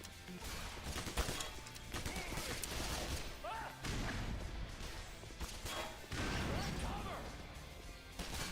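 Gunfire and impacts in the video game Black Mesa, dense loud bursts of shots and crashes layered over continuous game noise, with a player talking over them.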